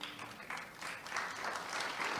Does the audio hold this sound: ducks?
no